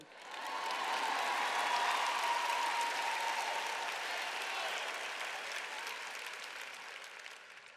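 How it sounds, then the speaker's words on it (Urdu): Sustained applause from a church congregation during a sermon, a broad steady wash of clapping that swells quickly, holds for several seconds and slowly tapers, with no speech over it. "دیکھیں، آپ اتنی تالیاں نہیں بجا رہے۔"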